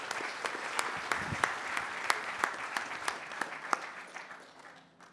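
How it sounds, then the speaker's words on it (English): A fairly small audience applauds at an agriculture and bioenergy forum, with a rhythmic run of distinct claps sounding through steady, moderate clapping that tapers off near the end. "let's thank these guys in the usual way with a round of applause"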